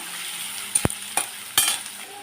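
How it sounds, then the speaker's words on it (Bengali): Spice paste frying in ghee for mutton pulao, a soft continuous sizzle broken by a few sharp clinks and scrapes of a spoon stirring in the pan. "ঘি দিয়ে পোলাওর গ্রেসটা আমি ভেজে নেব"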